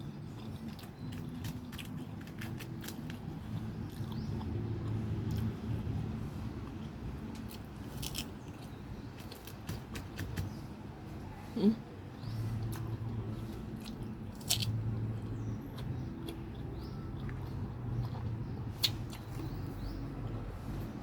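Someone eats guava with soft crunching bites and moist chewing at close range. One sharper crunch stands out against quiet, low background rumble.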